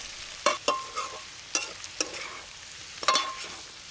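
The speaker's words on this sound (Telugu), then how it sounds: "ఐదు నిమిషాలు అయిందండి ఒకసారి బాగా కలుపుకొని" Potato pieces frying for aloo fry are stirred in a pan with a few sharp spoon scrapes and clinks over a light sizzle, close up, with no voices.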